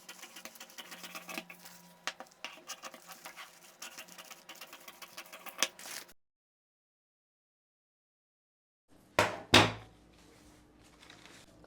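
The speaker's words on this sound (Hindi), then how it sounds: "पर मैं अभी कर दे रही हूँ कटिंग।" Scissors snip through a paper pattern for a princess-cut blouse in quick, crackly bursts for about six seconds. A short silence follows, then a few sharper cuts close by.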